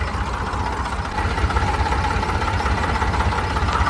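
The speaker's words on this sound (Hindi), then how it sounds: "भाई साहब दोनों ट्रैक्टर स्टार्ट कर लिया है" Swaraj and Sonalika tractor engines idling together, a steady low diesel rumble with continuous knocking throb, close and loud with no talk.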